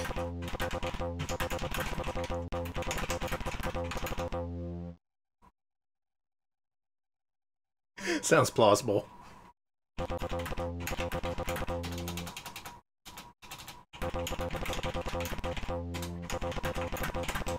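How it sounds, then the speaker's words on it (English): A typing sound effect from PC cartoon-making software plays as rapid, dense mechanical key clatter in bursts, broken by stretches of silence, with a brief spoken voice between the bursts. "The typing noise."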